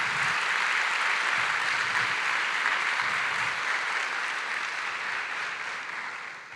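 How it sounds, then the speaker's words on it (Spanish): Loud, sustained applause from a church congregation during a sermon, dense clapping filling the whole stretch and easing slightly toward the end. "dale un fuerte aplauso por esta verdad"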